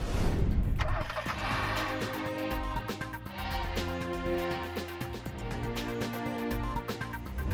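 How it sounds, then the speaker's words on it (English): A Yamaha 125cc Saluto motorcycle rides in with a mid-pitched engine hum under layered background music, starting with a brief burst and then running steadily at moderate loudness. "The 125cc Saluto rides in."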